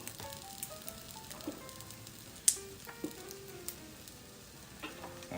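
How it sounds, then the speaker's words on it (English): Soft, steady sizzling of onions frying in a pan, with a few faint clinks and scrapes on top. "I can hear my onions starting to sizzle."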